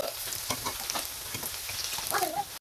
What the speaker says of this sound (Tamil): ஓகே இப்போ நல்லா ஃப்ரை ஆயிடுச்சு